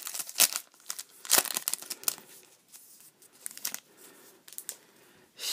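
A Dimension of Chaos trading card booster pack is torn open by hand: sharp crinkling foil rips in several bursts, close and fairly loud, with quieter rustling between them and no talking.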